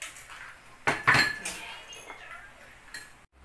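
Dishes and utensils clink while stuffed capsicum is plated in a home kitchen, a few sharp metallic taps and knocks scattered over quiet room tone.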